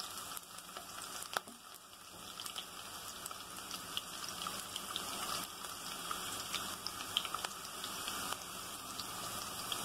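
Cinnamon sticks and cardamom pods frying in hot oil for egg khichuri, a steady close crackling sizzle with scattered pops, alone without talk.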